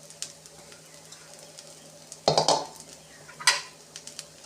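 A vegetable dosa cooks on a hot pan with a faint, steady sizzle, broken by two short bursts of metal scraping and clatter from a spatula against the pan.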